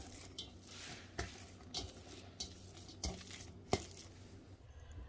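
Bare hands mixing seasoned ground beef with garlic powder, smoked paprika and salt in a bowl, giving soft squelching and slapping pulses at a steady hand-kneading rhythm, close and fairly quiet, no talking.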